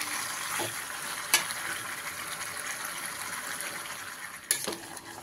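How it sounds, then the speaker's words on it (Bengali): Chicken with potatoes being fried down in plenty of oil and spices, giving a quiet, steady sizzle and two sharp spoon knocks against the pan, close by with no talk. "মাংসটা আমি এইভাবে ভালো করে কষিয়ে নিচ্ছি।"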